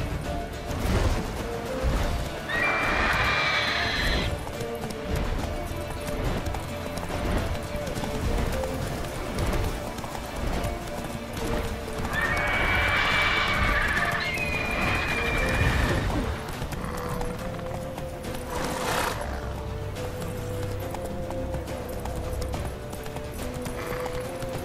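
Roach, a horse in The Witcher 3, galloping with steady clip-clop hoofbeats under game music and ambience, with a couple of brief whinnies rising above the mix.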